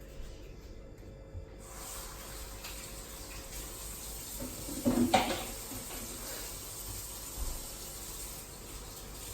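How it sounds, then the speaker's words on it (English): A kitchen tap runs steadily while hands are washed at the sink, a constant close rush of water with a brief louder splash midway. "I need to wash my hands."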